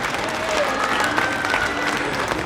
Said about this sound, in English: Big round of applause for the beautiful contestant number 1.